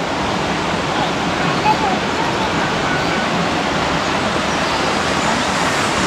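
Jungle stream in a forest river spot, water rushing and splashing as a steady, close broadband roar without pause.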